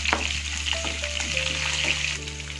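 Green chillies, curry leaves and ginger garlic paste fry in hot oil for a potato fry, giving a steady close sizzle with light crackling and a few stirring clinks, no voices.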